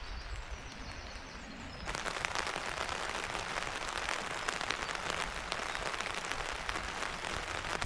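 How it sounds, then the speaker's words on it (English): Heavy rain drums steadily on a tent at a campsite, a dense broadband hiss that swells to full strength after about two seconds and stays loud and close to the end, with no voices. "the rain is starting to pick up a little bit now."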